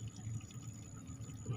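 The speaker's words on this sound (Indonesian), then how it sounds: "ini bisa kita buang airnya" Cooking water being poured off a pot of half-cooked rice, a steady low splashing pour lasting under two seconds, fairly faint, with no talking.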